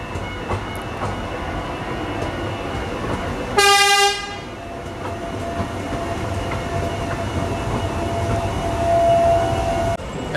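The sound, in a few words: Tyne and Wear Metro train at level crossing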